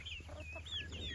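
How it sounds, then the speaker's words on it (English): A rooster gives a quick series of soft clucks, close by, over a low steady hum. "That's one of our roosters."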